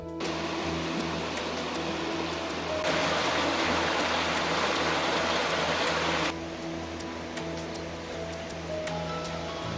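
A river runs over rounded stones at an Australian picnic area, giving a steady, full rush of water that swells louder for a few seconds mid-way, with no talking.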